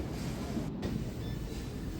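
The Shornur–Kannur express rolls along at speed, heard from inside as a steady, dense low rumble with a brief dip in the high hiss, continuous and without voices.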